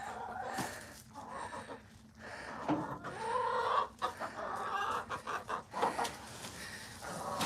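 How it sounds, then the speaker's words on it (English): Chickens clucking and squawking at close range in a cold, frozen winter setting, with busy, overlapping calls running throughout. "Chicken."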